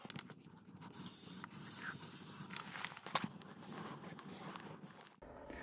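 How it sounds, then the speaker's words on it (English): An aerosol can of epoxy spray paint coats a metal sheet to keep it from rusting, a steady close hiss running nearly unbroken for several seconds before cutting off. "now I'm going to use this epoxy spray to spray the metal sheet to prevent it from rusting."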